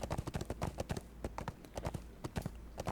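Horse hoofbeats from a ridden mount in a video game, a quick steady clip-clop rhythm of sharp, close hoof strikes repeating throughout at moderate volume, with no talk.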